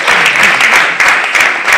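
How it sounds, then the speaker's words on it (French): An awards-night audience applauds for Linda, with loud dense clapping that fills the room close up, sustained for a couple of seconds without a break. "Est-ce qu'on peut applaudir bien fort pour Linda?"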